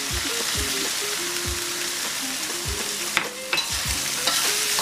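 Soy sauce goes into pancit bihon frying in a pan, with steady sizzling and repeated scraping stir strokes of a utensil against the pan, close and fairly loud, with no speech.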